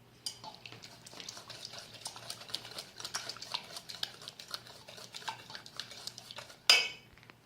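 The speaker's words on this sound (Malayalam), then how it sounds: "ഓയിലും മുട്ടയും കൂടിയിട്ട് ഒന്ന് മിക്സ് ചെയ്യണം. വയർ വിസ്ക് എടുത്ത് മിക്സ് ചെയ്യാം." A wire whisk beats oil, sugar and eggs in a bowl for banana cinnamon muffins, making fast, quiet rhythmic clinking and scraping against the bowl, ending in one sharper knock.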